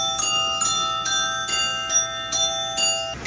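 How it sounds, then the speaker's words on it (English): Metallic glockenspiel bars on a Wurlitzer theatre organ at the Fargo Theatre ring out in a steady run of about seven bright struck notes, each leaving a sustained shimmering tone, moderately loud and alone. "a glockenspiel,"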